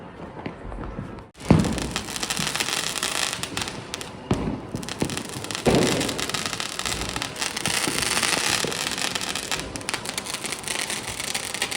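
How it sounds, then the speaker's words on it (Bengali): Diwali fireworks shells burst all around, a dense, continuous crackle and popping with several louder booms rising out of the steady noise, some near and some distant. "চারদিকে খালি সেল ফাটছে, সেল ফাটছে"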